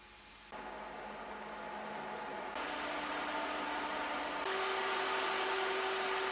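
A be quiet! Silent Wings 4 120mm high-speed white PC fan runs with a steady airy whoosh and a faint tonal hum, stepping up in loudness and pitch twice as its speed rises, with no other sounds.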